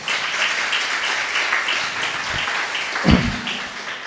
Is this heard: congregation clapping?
yes